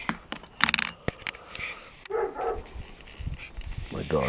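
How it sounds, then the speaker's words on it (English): Dog barking indoors, a few sharp yips and barks scattered among handling and rustling noises, with a person talking nearby between them. "My dog barking all of a sudden."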